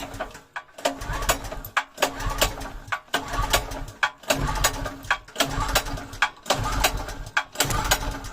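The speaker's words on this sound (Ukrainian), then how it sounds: "включаємо генератор і пробуємо заводити" A petrol generator is being started: repeated rhythmic cranking cycles about a second apart, each a rising mechanical churn that cuts off briefly. The sound is loud and close, with no speech.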